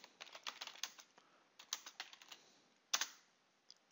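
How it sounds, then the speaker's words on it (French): A computer keyboard clicks in quick, light bursts of keystrokes as a document header is typed, pausing between runs, with one sharper press near the end; close and quiet, with no voices. "Je tape ensuite le numéro de la fiche."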